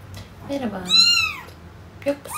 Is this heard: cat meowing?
yes